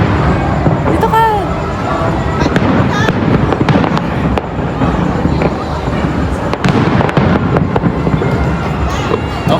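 Fireworks crackle and pop repeatedly at a birthday celebration in Thailand, loud and continuous, with distant crowd noise and people talking underneath.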